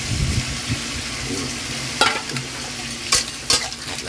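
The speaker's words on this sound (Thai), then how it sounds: "เราก็ใส่หอยลงไปนะไป" Clams go into a hot wok and are stir-fried, giving a steady sizzle with scraping and clattering from the spatula and a few sharp knocks against the pan. No voices are heard.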